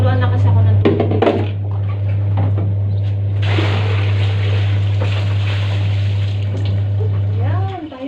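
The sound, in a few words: water running from a tap for laundry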